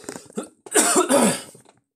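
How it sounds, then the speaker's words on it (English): A person coughs a few times in quick succession, close and fairly loud, with a throat-clearing quality and brief gaps between bursts, then silence. "Sorry, I had to cough for a second."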